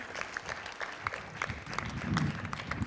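A Territory Day celebration audience gives participants a quiet round of applause, soft scattered clapping heard from a distance with a low murmur underneath for about three seconds.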